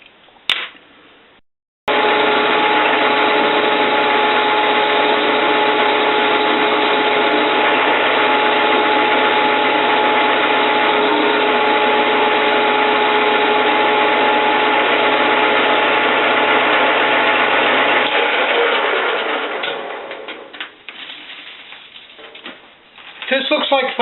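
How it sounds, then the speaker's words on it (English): Lathes running in a shop, giving a steady, loud mechanical whir with a gritty, ratcheting gear texture that holds evenly for about sixteen seconds before breaking up and fading toward the end. "I really like running these lathes."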